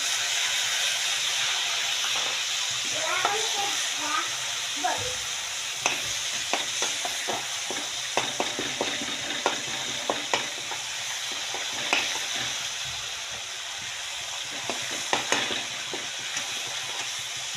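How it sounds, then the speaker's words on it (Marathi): Ginger, coriander and garlic paste sizzles steadily in hot oil in a pan, with repeated scraping and clinking strokes of a spoon as it is stirred, loud and close with no talking. "त्याच्यानंतर आलं कोथिंबीर आणि कडी काय लसूण याची पेस्ट टाकून घेऊया"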